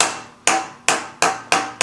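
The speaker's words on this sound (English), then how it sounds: "a hammer and just give it just a couple light taps" A light hammer taps a steel block to seat it in a milling machine vise, giving five sharp metallic strikes spaced roughly evenly, each ringing briefly and decaying before the next.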